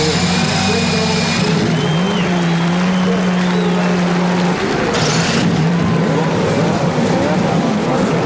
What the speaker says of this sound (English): Each roars out a challenge now.